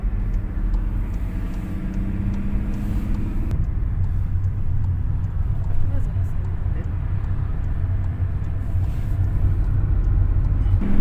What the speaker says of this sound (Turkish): Gazın sesini duyuyoruz kalkış için yine.